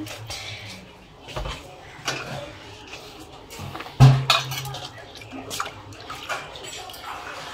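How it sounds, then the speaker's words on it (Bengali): A scaled hilsa fish is washed in a pan at home, with water sloshing and splashing, hard clanks of metal against metal, and one loud knock near the middle. "মাছটা এবার আমার পুরো আঁশ ছাড়ানো হয়ে গেছে। এবার আমি একে ভালো করে ধুয়ে নেব।"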